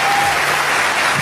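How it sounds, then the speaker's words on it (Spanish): A church congregation applauds during a sermon, a loud, dense wash of clapping that holds steady throughout without pause. "Alguien tiene que aplaudir más que eso."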